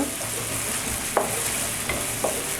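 Chopped ginger and garlic fry in a pan with a steady, close sizzle, broken by a few sharp clicks of a utensil against the pan.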